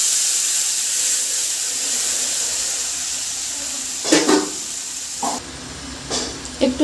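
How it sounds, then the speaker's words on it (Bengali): Water added to a hot frying pan of fried spices and green chillies for a fish curry, giving a loud continuous steamy hiss with a few clatters and bumps toward the end, no speech. "ভাজা হয়ে গেছে, এবার জল দিয়ে দেবো।"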